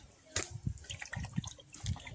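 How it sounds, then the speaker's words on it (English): Water running and splashing in a sink while fish is washed with a little vinegar, soft irregular trickles and drips, faint and close, with brief low voices. "washing up the fish then"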